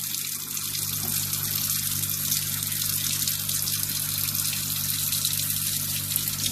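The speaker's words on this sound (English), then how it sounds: "Then fill the sink up with water." Kitchen tap running steadily into a sink as it fills with water, a continuous close hiss and gush with no talking.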